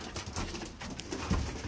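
A pigeon coos softly a few times close by, low and throaty, with light background noise and no talking.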